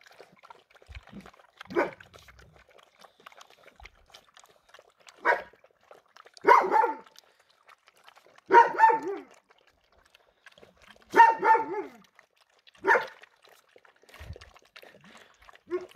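Several sharp puppy barks in short bursts, moderately distant, scattered over quiet background with faint whimpers between them.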